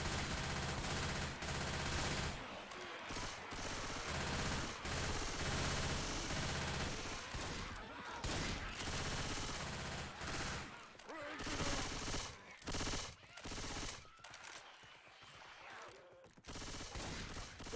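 Gunfire from a competitive Left 4 Dead 2 tournament match, with dense, nearly continuous automatic bursts and shots that break off in short gaps, loud and close.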